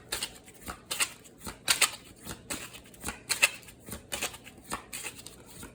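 Repeated quick riffling bursts of tarot cards being shuffled, close by, coming in an uneven rhythm of short crisp flutters with quiet gaps between.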